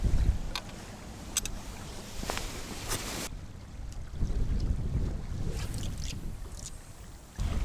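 Gusty winter wind during winter fishing in late December buffets the microphone in uneven bursts, rising and falling with rumbling low thumps and brief sharper crackles in between.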